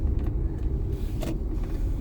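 Rattling and road rumble inside a moving car: a steady low drone with brief rattles and clicks scattered through it, close to the microphone, with no talking.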